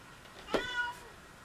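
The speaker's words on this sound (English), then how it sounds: "You can hear a cat." A cat gives a single short meow, faint and somewhat distant, against a quiet room background with no talking.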